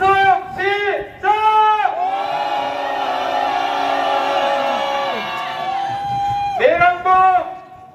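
A large protest rally crowd in Jeonju, South Korea roars a long, sustained shout of many voices, framed by short rhythmic chanted bursts before and after.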